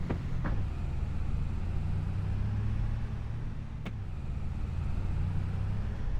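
A pickup truck drives along in Farming Simulator 2025, its low engine rumble steady and continuous, with a couple of faint clicks over the hum.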